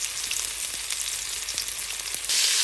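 Onions sizzle steadily in a hot pan for yakisoba, a dense close frying hiss that brightens and grows louder near the end, with no voices.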